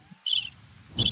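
Crickets chirp in quick, bright pulsing trills, three short bursts close and fairly loud with no talking.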